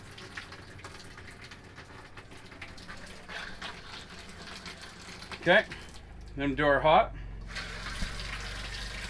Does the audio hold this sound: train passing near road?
no